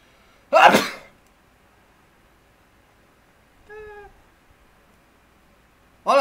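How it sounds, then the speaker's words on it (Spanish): A single loud sneeze bursts out close by in a quiet room. A short, faint squeaky call follows a few seconds later, and another sharp sound comes at the end. "Voy a estornudar y no puedo silenciar porque está muy lejos"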